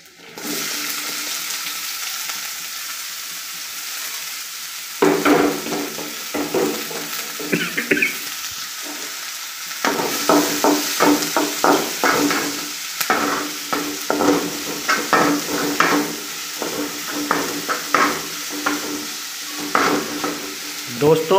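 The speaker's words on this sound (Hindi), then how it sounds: "प्याज ज़्यादा नहीं भूनना, बस हल्का सा मुलायम होने तक भूनना है" Chopped onion and green chilli frying in a pan for bathua paratha filling, with a steady sizzle under repeated scraping and stirring strokes of a spoon, close and fairly loud, after a quieter opening stretch of plain hiss.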